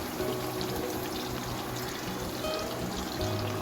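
Marinated chicken going into hot oil in a pan, giving a steady broadband hiss and wet sizzle that holds evenly for a few seconds, close and fairly loud with no talking.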